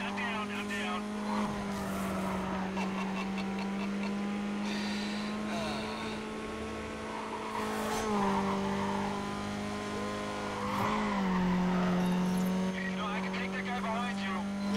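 Race cars roar through a Need for Speed Carbon street race with a Supra in the pack, a sustained engine whine rising and falling with gear shifts and occasional tire squeals, while someone talks excitedly over the action.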